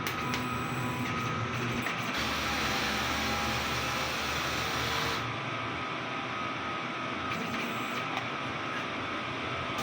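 A steady mechanical whir and hum of a DTF printer running a head clean cycle continuously, with a shift in pitch and intensity partway through as its motors change pace.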